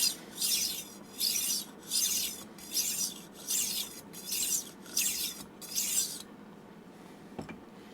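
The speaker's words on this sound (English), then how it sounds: "we're going to take that burr off with this spiral honing part, and we only have to do this like 5 or 6 passes" The spiral honing part of a tumbler knife sharpener makes rhythmic rasping strokes, about eight evenly spaced passes close by, as it takes the burr off a knife edge. A faint click follows near the end.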